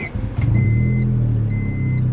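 A car with a built turbo D16 engine running on E85 fires up and settles into a loud, steady low idle rumble with a slight rev as it catches, close by and with no talking.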